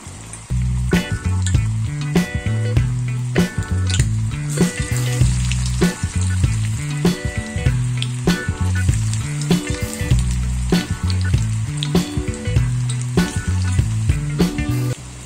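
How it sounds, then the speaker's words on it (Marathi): Onion bhajis fry in hot oil with a steady, crackling sizzle that runs throughout, while rhythmic music plays prominently over it. "आता इथे तेल आपलं व्यवस्थित तापलेलं आहे, आपण त्याच्यामध्ये एक एक अशा भजी सोडूया।"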